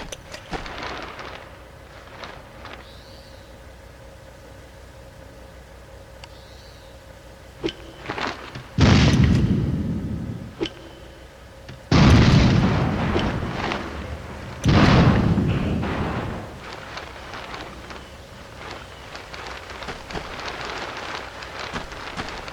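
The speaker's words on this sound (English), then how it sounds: "Hand grenades are the weapon of choice for disrupting enemy troops under cover or firing at you from inside fortifications." Hand grenades detonating in Ghost Recon 2, three deep, booming blasts a few seconds apart, each with a rumbling decay, over a constant hiss of rain-like ambience and a few smaller pops beforehand.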